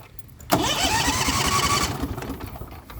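A lawn and garden tractor engine with no exhaust fitted is cranked by its starter and doesn't start, a steady whirring churn lasting over a second, loud and close, then a quieter mechanical hum.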